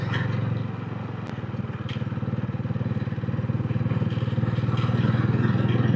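A motorcycle ridden along the Uppada beach road between Tuni and Kakinada, its engine throbbing steadily and close, rising slightly in loudness as it cruises.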